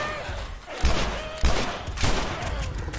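Gunshots in The Last of Us video game, with several sharp, loud bursts of gunfire in quick succession alongside thuds and game background sound.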